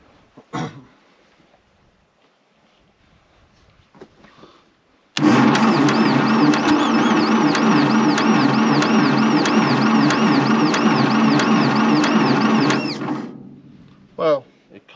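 A long-unused Fordson E27N tractor engine suddenly bursts into a loud, steady chugging run for several seconds, then cuts out abruptly, with faint clanks before and after.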